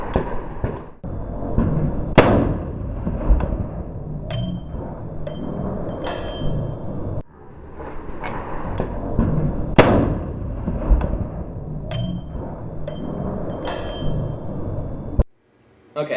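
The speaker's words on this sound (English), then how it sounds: "here's me at the range with my AR-15, and here's a slow-mo of that as well." AR-15 rifle shots at an outdoor shooting range, in a slow-motion replay: sharp, loud cracks recur roughly every couple of seconds over a steady background of range noise, alone with no talk.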